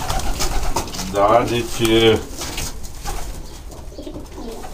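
A racing pigeon coos in soft, rhythmic pulses that are close and clear, with someone speaking at the beginning.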